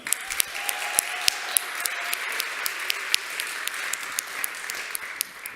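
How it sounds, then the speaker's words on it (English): An audience at the Latvian startup awards opening applauds in a dense, continuous wash of clapping, with individual sharper claps popping out from the steady crowd. "So a round of applause to Printful and Printify"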